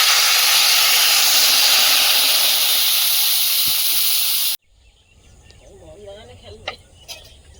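Water poured into a hot pan of spices with coriander powder, for a thin curry of drumstick stems in a village kitchen, gives a loud, steady sizzling hiss that cuts off abruptly, leaving faint clinks and quiet room sounds.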